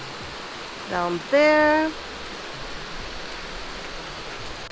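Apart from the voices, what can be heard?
river flowing below a mountain hotel in Hakone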